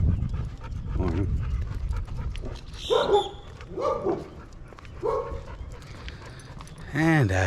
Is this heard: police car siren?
no